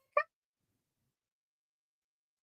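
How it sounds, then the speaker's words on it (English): A single short, faint meow from a cat, one brief call and then silence. "She's meowing because she's upset."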